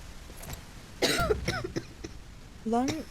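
A survivor in the quarantine checkpoint game Quarantine Zone lets out a cluster of rough, close coughs, followed after a pause by a short voiced, groan-like sound.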